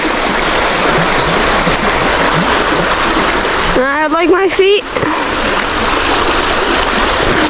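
Rushing water of a cold stream being waded through fills the scene loudly and continuously, with splashing surges as someone pushes through on a hike in brutal weather; a voice briefly speaks midway.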